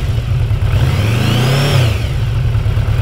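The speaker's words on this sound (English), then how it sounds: "Crank the throttle a little bit and see what that does" A 2020 Yamaha VMAX 1700 motorcycle engine revs up once and eases back down, a loud steady drone that swells in pitch mid-way before settling, close by with no voices.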